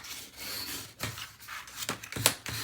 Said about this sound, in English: I'm going to give it a good burnish